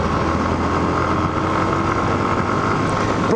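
A Yamaha Fazer motorcycle engine running steadily close to the rider during a downshift, a continuous droning rumble with wind noise over it and a quick rise in revs at the very end.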